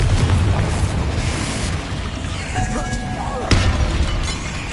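A Confringo blasting spell in Hogwarts Legacy makes a loud, sustained roaring explosion with a sharp crack near the end, heard up close over dense rumbling game noise.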